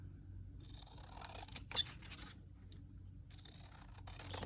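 Scissors snipping through paper for a junk journal, a steady stream of close, quiet cutting and rustling with one sharper snip partway through, no talk.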